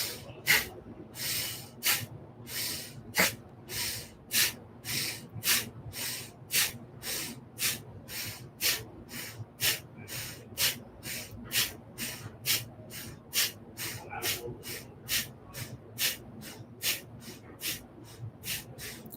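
Many deep breaths during a meditation session, each one a close, airy rush in a steady repeating rhythm, with some strong bursts and short quiet gaps between them.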